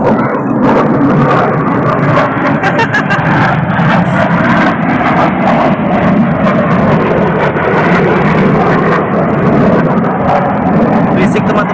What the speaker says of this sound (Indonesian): Berisik teman-teman, ada suara pesawat ya